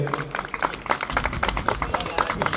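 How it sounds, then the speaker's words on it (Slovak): An audience at a race awards ceremony in Michalovce claps warmly for the category C winners, a steady burst of many hands applauding together close by. "Ešte raz poprosím potlesk tým najlepším z kategórie C."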